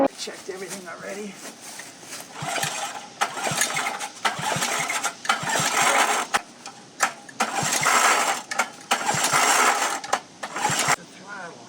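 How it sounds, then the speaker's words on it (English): A Honda gas engine driving a pump to flush a geothermal heat pump system pulls over and catches, then runs with a rough, steady mechanical drone, heard up close with people talking over it. "He's gonna go out there and start the Honda up."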